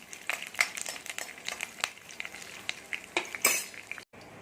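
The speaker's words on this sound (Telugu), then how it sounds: "మినపప్పు కొద్దిగా కరివేపాకు కొద్దిగా ఎండుమిర్చి వేసి ఒకసారి కొద్దిగా ఫ్రై అవునామండి" Urad dal, curry leaves and dried red chillies frying in a pan for a spinach dish, with a steady soft sizzle broken by scattered stirring scrapes and clinks, close by and without speech.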